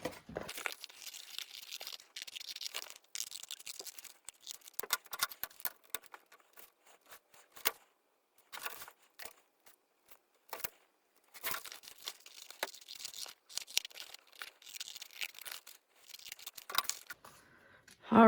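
Scissors snip and crinkle through paper sheets for an accordion scrapbook, irregular close cuts and rustles in short bursts separated by quiet pauses.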